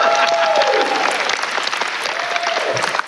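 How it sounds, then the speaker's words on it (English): Audience applause for a band's keyboard player at a battle of the bands show, a dense, steady wash of clapping from a crowd filling the whole stretch, with a few faint tones beneath it. "I think we should give the little keyboard player there another round of applause."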